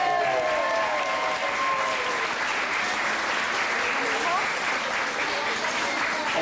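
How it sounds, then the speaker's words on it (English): Audience claps for Emily and her dad after a slime stunt, a full, sustained round of applause filling the room evenly, with a brief faint whistle or squeak near the start and cheering voices mixed in. "Let's have another round of applause for Emily and Dad."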